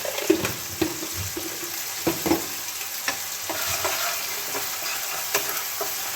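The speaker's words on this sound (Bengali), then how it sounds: "টমেটোটা কিন্তু আমার ভালো মতো ভাজা হয়ে গেছে।" Tomatoes fry and sizzle in a pan for an egg omelette curry with peas, with a steady hiss and occasional scraping stirs of a spatula, close up and without talk.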